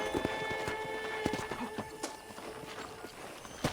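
Horse hooves walking at a steady clip-clop on a ranch in the video game Red Dead Redemption, with rhythmic, fairly close footfalls, a few sharp knocks and faint ambient noise.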